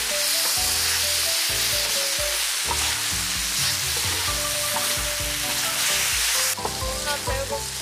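Spicy Korean pork stir-fry (jeyuk-bokkeum) sweetened with garlic grain syrup sizzles steadily in a pan for several seconds, the bright frying hiss running continuously beneath prominent background music.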